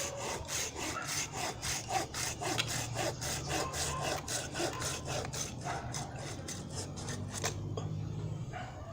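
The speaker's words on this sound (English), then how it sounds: "I'm gonna try this saw out on this 1 inch and 1/4 thick branch." Tajima G-Saw 210 pruning saw cutting through a branch about an inch and a quarter thick, close and rhythmic rasping strokes repeating quickly for several seconds before stopping abruptly.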